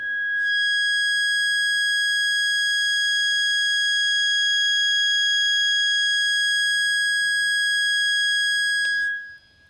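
A steady electronic tone from a speaker driven by a modulating input signal in an analog communication lab, a pure whine with faint higher overtones that holds nearly unchanged for about nine seconds before cutting off.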